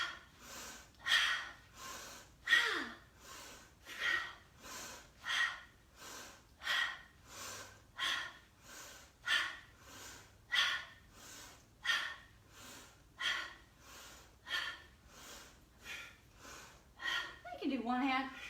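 Rhythmic yoga breathing in the pulling prana exercise, about twenty sharp, forceful nasal breaths in a steady pulse close to the mic, ending with a longer voiced exhale.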